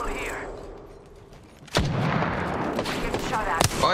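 Gunfire in the Apex Legends video game, heard as a sudden loud blast followed by sustained rapid shooting and rumble, close and dense, with a short impact near the end and a voice speaking under it.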